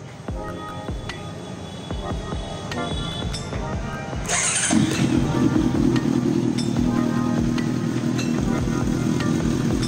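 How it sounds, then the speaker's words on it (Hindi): A Honda CBR 650F fuel-injected motorcycle engine starts up and settles into a steady, loud idle close by after a few seconds of workshop background noise, with no talk over it. "अब एक बार गाड़ी स्टार्ट करेंगे"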